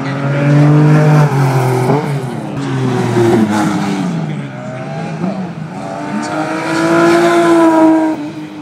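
A Nissan GT-R R35 races on a tarmac rally stage, its engine loud and close, revving and shifting through gears with rising and falling pitch and a brief tire squeal.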